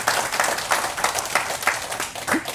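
Audience applause at a Buddhist temple Dharma talk, with irregular claps and bursts coming through a moderately loud, steady clapping wash that rises and falls.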